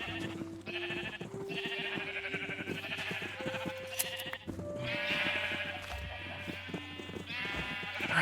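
Sheep bleat repeatedly in Minecraft on a farm with brown sheep, a string of wavering, nasal baas over a steady game background, fairly close and clear with no talking.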